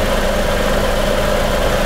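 A car engine idles steadily with the air conditioning switched on, a constant close, loud low rumble and hum that stays unchanged throughout with no talk over it.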